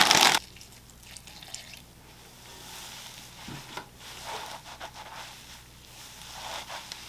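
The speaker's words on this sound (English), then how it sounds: "I'm going to wet up some more moss." Sphagnum moss being wetted and worked with water for plant propagation, a quiet close sequence of wet squishing, dripping and rustling after a brief louder burst at the start.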